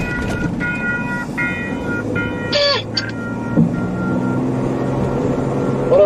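Railway scene with train sounds: steady low rumble and rail noise, repeated tonal whistle-like blips, a brief squealing screech near the middle, and a short clank later, fairly loud and continuous.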